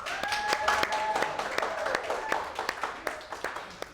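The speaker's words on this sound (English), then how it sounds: "So Rude Crew, do an applause for her." Applause from a small group for a guest, a modest run of claps mixed with a whistle and some cheering voices, fading into scattered individual claps.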